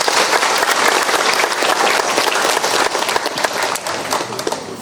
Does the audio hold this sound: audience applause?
yes